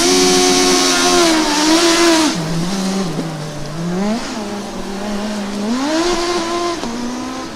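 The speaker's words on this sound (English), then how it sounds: "I'll point the microphone at them so maybe you can hear a little bit more of the fabulous engine" Formula Student race car at an autocross event, engine revving hard and dropping pitch between gear changes, then climbing again as it accelerates out of corners; loud, close and continuous, with no talk over it.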